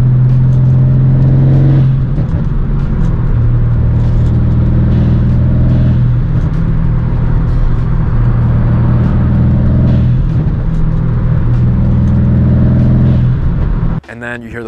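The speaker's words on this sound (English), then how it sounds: "it sounds so good when you hit the gas, you let off and it goes shh" Mercedes C63 AMG with diverter valve mods and a straight-pipe exhaust, heard as a loud, steady close-up engine drone for most of the run, then an abrupt drop in level near the end.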